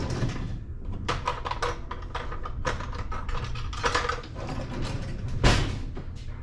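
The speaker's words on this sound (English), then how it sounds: "You can use your bread hook in your mixer bowl, and it will mix it all together perfectly." Stand mixer fitted with a dough hook kneading meatloaf mixture in its bowl, a close, continuous mechanical whirring with rhythmic clanking and scraping and no talk.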